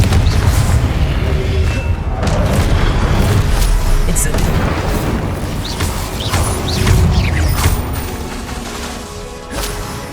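Confringo blasting-spell explosions in the video game Hogwarts Legacy give a loud, continuous rumble of booms and crashes, with spell-casting shouts mixed in.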